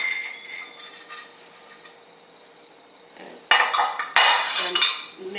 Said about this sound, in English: And mix well until fluffy